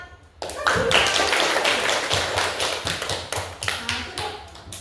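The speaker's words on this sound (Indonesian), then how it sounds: "beri tepuk tangan kepada kelompok 1" A group of listeners in a classroom presentation setting bursts into applause, with dense, close clapping that starts abruptly, stays steady, then thins into scattered individual claps.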